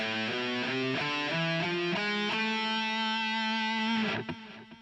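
Single notes on electric guitar step down an A harmonic minor scale one after another, evenly spaced and ringing, ending with a sustained tone that trails off.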